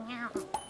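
A calico cat gives a short, close meow with a rising and falling pitch, followed by a couple of brief clinking taps.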